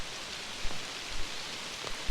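Steady rain falls outdoors in a dense, even hiss with scattered heavier drops and small patters, loud and continuous without any voices.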